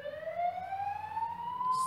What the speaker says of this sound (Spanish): ¡Sirena!